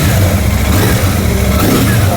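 A Royal Enfield Shotgun 650 Twin custom motorcycle at a launch event, its parallel-twin engine revving in a short, loud, throbbing burst close by.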